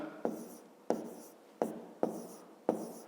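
Chalk or pen strokes writing out numbers for a fifth-grade math division exercise, five sharp tapping strokes at a steady rhythm, each with a short scratchy tail, close and fairly faint with no talk.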